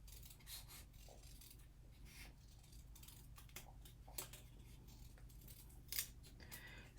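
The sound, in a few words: cutting glitter paper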